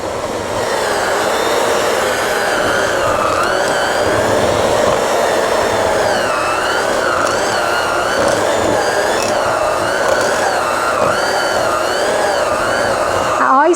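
Electric mixer beating very thick peanut butter cookie dough in a bowl gives a loud, continuous whirring drone that strains and wavers in pitch throughout.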